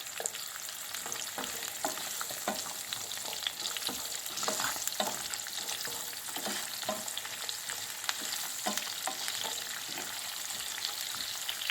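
Garlic frying in a pan for a kale curry, a steady, close crackling sizzle with repeated stirring scrapes throughout.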